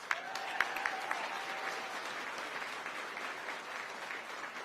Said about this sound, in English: We owe you a great round of applause